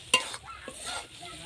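White mustard paste being sautéed with vegetables in a pan, a soft close sizzle with one sharp utensil clack near the start and a faint scrape after, brief and without talk.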